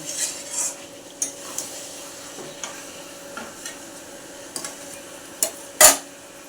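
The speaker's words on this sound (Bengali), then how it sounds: "মশলাটা কষতে থাকলাম" A spice masala for chicken is stirred and sautéed in oil in a pan. Scattered clinks and scrapes of the utensil against the pan sound over a faint, steady sizzle, ending on one louder knock.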